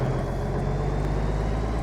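A rough, rumbling Kenworth K100e cab-over truck engine idles steadily and loudly in a video game, a low throbbing drone with no speech.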